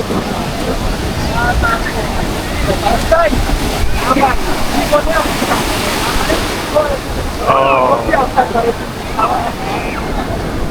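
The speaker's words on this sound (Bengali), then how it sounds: "কত ঢেউ সাগরে কত উত্তাল সাগর এখন" Rough-sea waves crash and churn nearby at Cox's Bazar beach in a steady roaring wash, with occasional surges and people talking faintly underneath.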